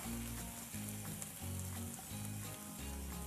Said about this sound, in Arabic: إذن الحين ببتدي بحط الدجاج اللي تبلته، بحط من قطع الدجاج